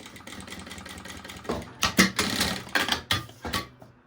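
A sewing machine backstitches on a pencil case, starting with quiet mechanical ticking that builds into a series of louder, uneven stitching bursts up close.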